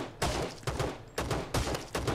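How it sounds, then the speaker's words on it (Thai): Gunfire in the battle royale game Rules of Survival, with several loud, sharp bursts of shots in quick succession, each one decaying briefly before the next. "ยังมีอีกเสียงปืน"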